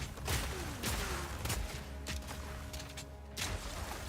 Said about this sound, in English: look at those explosions